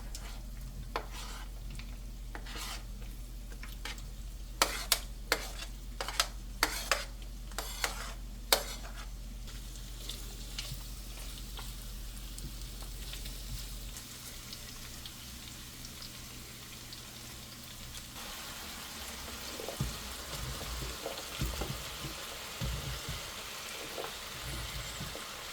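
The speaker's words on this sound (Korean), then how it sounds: "삼겹살을 구워주고 다음에는 파를 넣어 파기름을 만들어 주었다" Pork belly sizzles and fries in a pan, later with green onion added for scallion oil and then braised with sugar, potatoes, water and soy sauce; steady frying hiss with clattering stirring, no talk.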